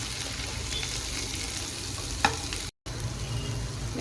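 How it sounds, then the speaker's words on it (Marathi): Potato pieces frying in ghee with cumin for a Maha Shivratri potato bhaji, giving a steady soft sizzle with light stirring scrapes, fairly quiet and close, a single sharper clack midway and a brief dropout. "आपण आता बटाट्याची फोडी घालूया"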